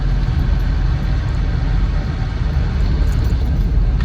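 Land Rover Defender 90 TD5 County hardtop diesel engine running on the move, a steady close rumbling drone with low throttle noise that holds even throughout.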